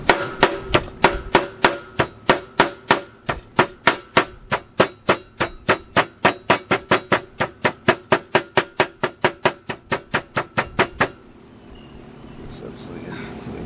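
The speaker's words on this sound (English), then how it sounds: "Tap down all fasteners." A hammer taps down metal belt fasteners on an Alligator round baler belt splice in a fast, steady series of about forty sharp, close strikes, then stops, leaving faint background noise.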